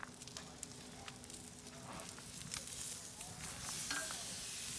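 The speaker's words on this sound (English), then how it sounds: "So that's what you want to hear, is a good sear like that." Ribeye and filet steaks sear on a grate over an open campfire with a soft, steady sizzle and crackle, faint and close, slowly building louder.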